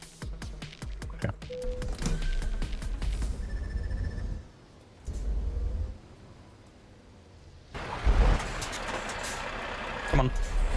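Truck engine in Euro Truck Simulator 2 rumbles and revs, with air brake hisses. The sound drops out twice and returns louder near the end, and someone talks over it.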